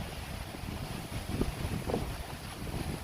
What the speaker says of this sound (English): No, because it's so windy.